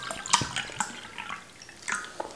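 Water from a small bottle at a burger mealtime: close, brief splashing and trickling bursts with a few bright droplet sounds, short and uneven, no talking.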